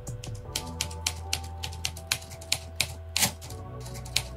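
Typewriter sound effect playing in Adobe After Effects, a run of sharp key strikes at a fairly even pace with a louder clack near the end, close and dry, nobody talking.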